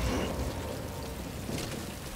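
Steady rain in the video game Death Stranding, a dense continuous hiss of drops falling on surfaces, even and unbroken throughout with a slight swell near the end, heard without talk.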